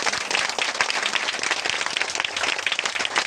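A church congregation claps together in thanks to God, a dense, steady wash of many hands that stays loud and close from start to finish with no break.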